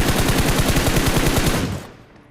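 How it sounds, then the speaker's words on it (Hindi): Rapid automatic gunfire in a battle royale video game, a loud sustained burst of evenly spaced shots that cuts off abruptly near the end, leaving near silence. "सबसे पहले तो मैंने सोचा ये जो फायरिंग हो रही है"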